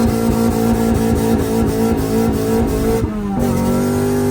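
A K24-engined car launching at a track night, its loud engine revving hard and steadily near by with a dip and pitch change toward the end as the wheels spin. No voices.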